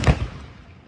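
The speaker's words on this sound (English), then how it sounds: "It wasn't a gun. It was a cannon." A ship's cannon fired ahead of a sunset sail sounds as a single heavy boom with a sharp onset, then a short decaying rumble that fades out over the rest of the second.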